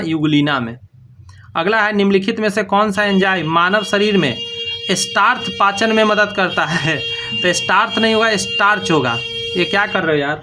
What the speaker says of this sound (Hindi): हॉर्न मार रहा है कोई गाड़ी वाला आके।